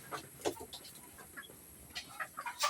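Chickens clucking from somewhere up above on a backyard farm, a few faint, scattered clucks against a quiet background.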